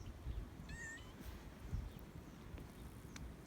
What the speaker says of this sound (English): I guess that's my cat.